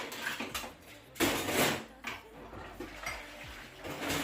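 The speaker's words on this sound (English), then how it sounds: "just doing the dishes and organizing a little bit" Dishes are washed in a kitchen, with ceramic and metal clinking, clattering and scraping in irregular bursts under running-water hiss, and no talking.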